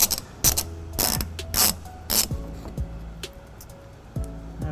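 Ratchet wrench spinning to back out bolts on a 2014 Toyota Prius Plug-In during a trailer hitch install, giving several short bursts of close, rapid clicking separated by brief pauses.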